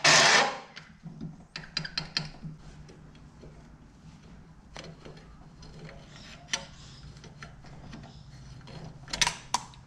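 Metal clicks, knocks and scrapes as a car thermostat held in a vise is worked by hand on a Holden XG ute cooling system, with scattered sharp ticks over quiet background hum and a louder burst at the start.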